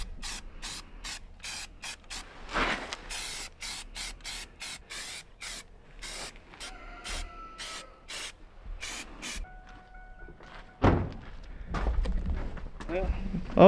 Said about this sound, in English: Now we're just going to shoot a little rattle can primer on them